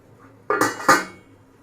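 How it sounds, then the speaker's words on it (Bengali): Two quick metallic clanks as a lid is set onto a pot of kneaded boiled-flour roti dough, close and sharp, ringing briefly before fading into quiet. "আর ঢাকনা দিয়ে ঢেকে আমি এই চুলা থেকে অন্য চুলা নিয়ে যাব"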